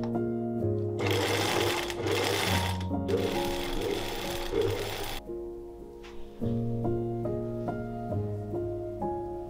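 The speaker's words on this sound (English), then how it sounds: "Then I secured them by simply sewing over everything from the outside, adding smaller cracks this way." A sewing machine stitches over layered tulle on a frozen-lake ice-effect dress, running in loud, close bursts for about five seconds before stopping, leaving a steady tonal hum.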